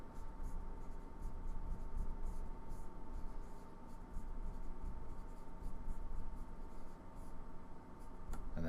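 A pen writes out a math answer, with a steady close scratch of strokes on paper that runs continuously at low volume and carries faint quick taps between strokes.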